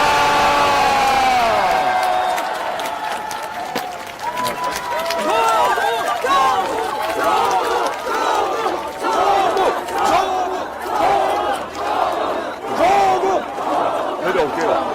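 Crowd at a Busan political rally shouting and cheering together, loud overlapping yells and whoops rising in waves, with chanting voices up close.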